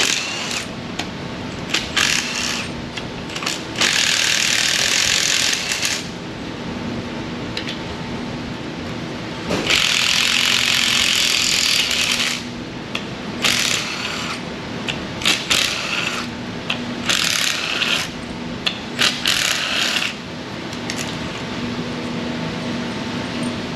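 Small 10 mm bolts being loosened from a GM LS4 V8 cylinder head during a cam swap teardown: ratchet clicking in repeated bursts, interspersed with metallic clinks and handling noise, close and fairly loud.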